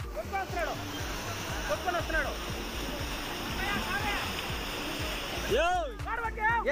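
Floodwater from heavy rain in Tirupati rushes and splashes steadily in a loud, continuous roar, with a person talking over it.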